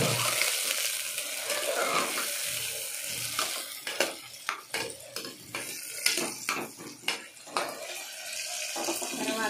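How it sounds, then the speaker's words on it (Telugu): Chopped tomato goes into a hot frying pan for bottle gourd milk curry, followed by steady close sizzling under a run of sharp clinks and scrapes of stirring. "తర్వాత టమాటా వేస్తున్నానండి"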